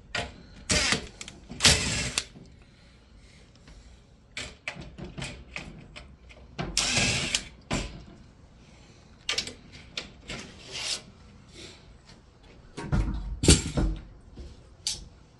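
Screws being worked out of the aluminum balance track of a Peachtree Ariel double-hung non-tilt window, with repeated rasping, grinding bursts of a driver against metal and short scraping handling noises between them, close by.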